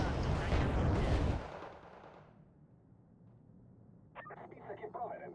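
A bombing artillery strike in the video game Wargame: Red Dragon lands as a loud, rumbling broadband blast that fades after about a second and a half, leaving a low hum before voices and clatter return.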